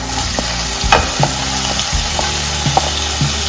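Chopped onions sizzle steadily in a hot pan for an egg Maggi masala, with several sharp scraping knocks of a spoon stirring them at irregular intervals.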